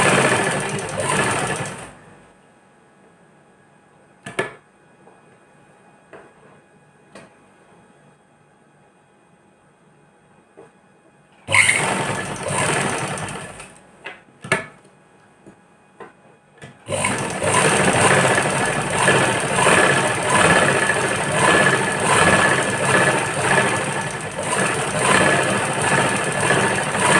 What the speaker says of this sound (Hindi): सिलाई लगाने लग रही हूँ